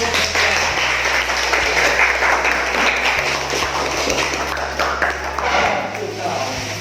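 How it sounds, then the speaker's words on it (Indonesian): An audience at a teacher training session applauds in a steady, fairly loud wash of clapping, with low sustained keyboard tones and some voices underneath. "Oke, beri tepuk tangan Bu"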